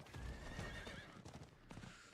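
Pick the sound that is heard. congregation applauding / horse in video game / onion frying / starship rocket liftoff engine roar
horse in video game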